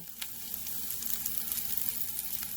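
Onion frying soft in a pan for a bitter gourd dish, a steady close sizzle with faint crackles and stirring, no voices.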